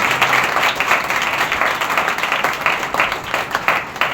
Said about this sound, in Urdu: آئیں خدا کے کلام کو زوردار تالیوں میں ویلکم کریں